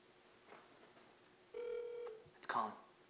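A quiet telephone call signal gives a steady electronic ringing tone lasting about half a second, followed by a brief burst of clicks and a higher chirp, set against a faint, hushed background.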